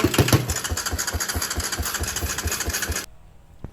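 A four-wheeler ATV engine running close by with a steady, throbbing mid-pitched rumble that cuts off abruptly after about three seconds, leaving a faint quiet tail.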